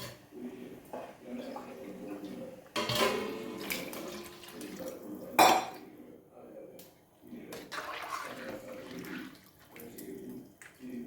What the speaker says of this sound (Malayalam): ബാക്കി വെള്ളം കൂടി ഒഴിക്കാം